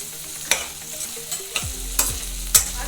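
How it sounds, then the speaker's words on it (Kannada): Masala spices frying in oil in a pan for temple-style vangi bath, a soft continuous sizzle punctuated by four sharp spoon clinks and scrapes against the pan, close by and without talk. "ಒಂದು ನಿಮಿಷ ಫ್ರೈ ಆಗಲಿ ಮಸಾಲೆ ಎಲ್ಲ ಎಣ್ಣೆಯಲ್ಲಿ"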